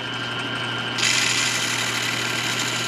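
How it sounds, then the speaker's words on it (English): A power sander whirs steadily across pieced-together wood for a baseball bat ring and turns brighter and harsher about a second in, as the pad bears down on the surface. "I'm going to try to kind of like lightly sand before I fill in with the filler"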